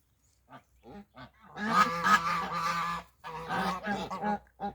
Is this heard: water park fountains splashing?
no